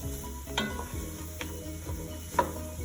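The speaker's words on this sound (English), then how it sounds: "Now I'm stirring these good veggies in here for a good 5 to 7 minutes." Vegetables stirred into a roux for shrimp étouffée, a soft, low sizzle with a few sharp spoon scrapes spaced about a second apart. Quiet and close, with no speech.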